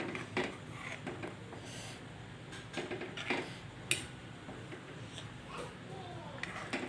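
A spoon stirs Aabhadichi bhaji vegetables in a pan, giving faint, irregular scraping and clinking taps over a quiet kitchen background.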